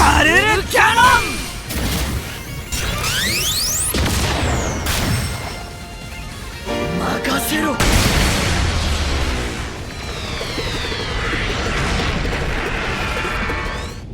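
Explosive attack effects from the Garuru Cannon move in the video game Digimon Story Time Stranger: a run of loud booms, crashes and sweeping synthetic whooshes filling about fourteen seconds, with a bright burst near the start and another surge midway.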